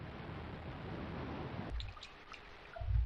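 Water drains in the Myst video game's Stoneship Age, a soft wash of trickling and gurgling that abruptly thins into faint scattered drips and low bubbling glugs.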